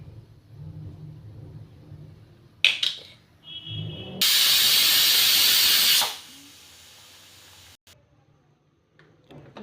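A home pressure cooker of khichdi lets out a sharp release, then a loud sustained whistle-hiss of escaping steam lasting about two seconds before it cuts off, leaving a quieter simmer.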